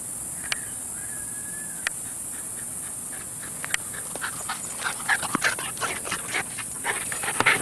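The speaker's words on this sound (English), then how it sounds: "This crazy dog wants his ball." Dog panting and whimpering eagerly for a ball, with faint whines early on and a quickening run of short sharp breaths and clicks building toward the end.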